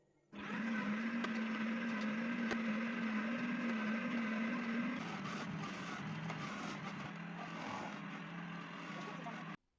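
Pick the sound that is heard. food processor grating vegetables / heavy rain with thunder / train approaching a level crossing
food processor grating vegetables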